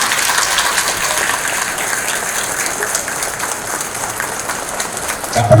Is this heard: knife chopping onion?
no